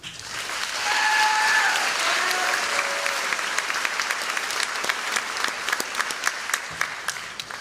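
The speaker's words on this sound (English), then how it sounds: "a great big welcome and a round of applause for your high school principal, Mr. Carl Pabone" A graduation ceremony audience applauds loudly, a dense wash of clapping that swells within the first second and holds steady, with sharp individual claps standing out near the end.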